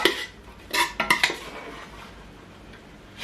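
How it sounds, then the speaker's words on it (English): Clattering spoon-and-pot sounds as beans are moved from a pressure cooker into a stew pot: a few sharp metallic knocks and scrapes near the start, then quieter handling, all close up with no talk. "I have to take out the beans from the pressure cooker and transfer it into the stew."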